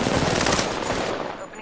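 Rapid automatic gunfire in the Apex Legends video game, a loud dense burst of shots that tapers off near the end.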